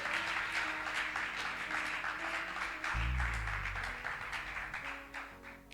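Church congregation clapping and cheering during a service, a steady wash of applause from many hands throughout, with a low rumble partway through.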